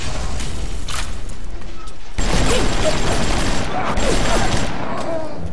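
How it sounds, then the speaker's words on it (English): Sustained machine gun fire in BioShock, loud and dense through the whole stretch, rising further after the first couple of seconds, with a voice talking faintly underneath. "Alright, so we'll use some machine gun for a while."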